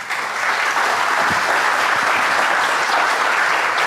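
An audience applauds a speaker at a talk, a dense, loud, sustained clapping from many hands that holds steady throughout without voices.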